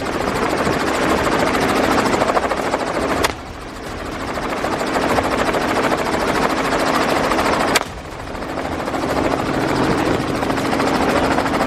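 Helicopter flying during a wild boar hunt, its rotor drone loud, close and continuous throughout, with two brief sharp cracks cutting into the steady roar.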